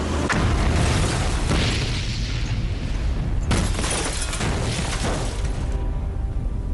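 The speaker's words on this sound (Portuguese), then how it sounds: "Às 7h45, uma enorme explosão destruiu todo o prédio." An overheated coal boiler explodes and destroys a building: a loud, sustained roar of blasting and collapse that keeps going for several seconds, with a fresh sharp burst partway through.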